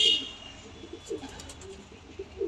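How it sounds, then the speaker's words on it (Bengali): Madrasi pigeons coo softly in a short burst, low murmuring calls repeating under a faint background hiss. "আর একটা কালাঙ্কা পায়রা মাদি পায়রাগুলো একদম শর্ট সাইজ বন্ধু"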